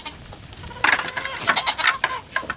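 Several goats in a herd bleat in quick overlapping calls at close range over faint background noise, one of them a newcomer the others are getting used to.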